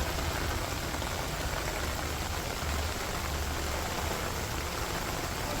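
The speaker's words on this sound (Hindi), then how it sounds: "करीब 7 से 8 बजे की सुबह से जो बारिश है वो लगातार इसी रफ्तार में हो रही है" Heavy monsoon rain falls on Hajipur as a dense, steady, hissing roar that fills the whole stretch without pause, with no voices.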